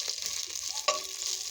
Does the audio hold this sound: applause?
no